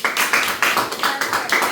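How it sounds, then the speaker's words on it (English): A brief patter of clapping hands, a small group of schoolchildren in a classroom applauding in quick, uneven claps. "give them a round of applause."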